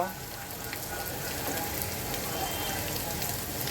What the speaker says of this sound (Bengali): পেঁয়াজটাকে আমি সুন্দর করে ভেজে নেব সাথে কাঁচামরিচটাও দিয়ে দেব